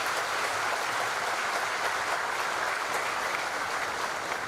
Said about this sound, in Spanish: Un fuerte aplauso también para ustedes.